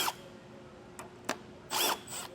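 Power driver backing out T15 screws from a fascia handle on a 2024 Chevrolet Silverado 1500, a few short whirring bursts, faint and close, with brief clicks between.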